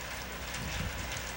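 Steady rain pours down on an outdoor women's soccer match, a continuous broadband hiss with low rumbling crowd or field noise underneath and no clear voices.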